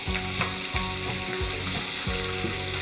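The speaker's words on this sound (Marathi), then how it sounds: "आणि मस्त सोनेरी रंग येईपर्यंत कांद्याला परतून घेऊया" Chopped onion sautéing in a hot pan with cumin, asafoetida and curry leaves, a steady dense sizzle punctuated by rhythmic scraping strokes of a stirring spoon, close and alone.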